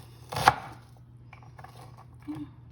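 A knife cutting shallots on a board, one sharp close chop followed by a few softer, quieter cuts and light handling noises, with no voices.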